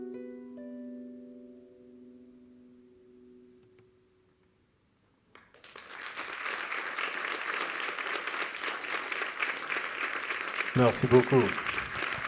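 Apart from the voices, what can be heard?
audience applause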